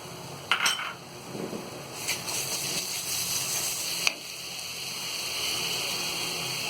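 Onion frying in a pan sizzles as ginger paste and garlic paste are added. Metal clinks and scrapes of a spoon against the pan sound close by, with a few sharp knocks over a steady sizzle.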